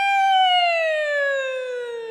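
A voice actor's siren imitation used as a vocal warm-up: one steady, loud vocal tone gliding slowly downward like a wailing siren, rich in clean harmonics, with no other sound around it.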